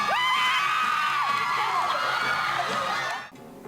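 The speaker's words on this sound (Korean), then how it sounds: "발레와 힙합이 춤 대결을 벌이자 함성이 터집니다." A theater crowd of high school seniors shrieks and cheers at a ballet versus hip hop dance battle, high excited screams and whoops ringing out loudly before fading away at the end.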